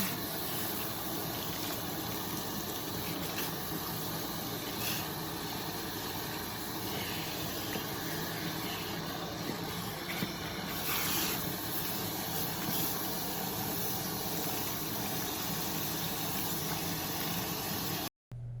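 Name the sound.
lukewarm water rinsing bleach out of hair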